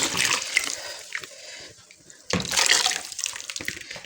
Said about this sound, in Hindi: और अब ये जो लस्सी हमने बनाई है, ये इसमें मैं डाल दूँगी।